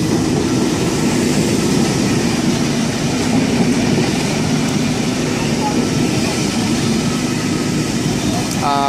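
A Sydney V-set double-deck train runs steadily with a continuous loud rumble and hum of wheels and motors, broken by a brief squeal near the end, with someone speaking faintly.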